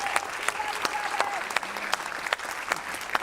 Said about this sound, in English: Let's give her one more round of applause here.